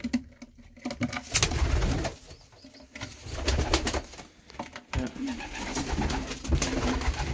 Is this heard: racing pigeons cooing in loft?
yes